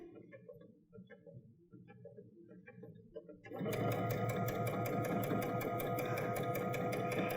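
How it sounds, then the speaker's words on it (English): A sewing machine starts up partway through and runs at a fast, steady clatter while stitching a straight seam on a drawstring backpack bag, loud and close after a quieter stretch of handling noises. "I'm going to put a back stitch right at the beginning."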